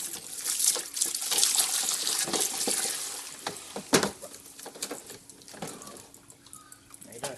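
Fresh tap water running through the bottom hose into the cooling system of a KN/KQ Ford Laser / BJ Mazda 323 and draining out, a steady close rushing flow with a brief splash midway.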